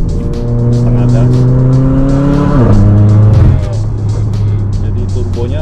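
Mercedes-AMG GLA45 with an AMS turbo accelerating at half throttle, a loud, steady engine drone that rises in pitch, dips briefly at a shift and then climbs again, with faint turbo whoosh and a voice talking over it.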